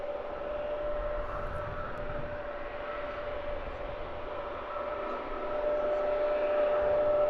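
An EasyJet Airbus A320-200 airliner passes overhead near an airport, a broad steady engine roar with a faint whine that grows slightly louder toward the end.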